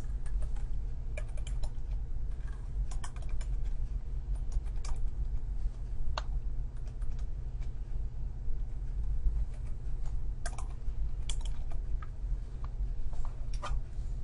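Values keyed in on a computer keyboard: quick, irregular clicks and taps, close by, running over a constant low hum.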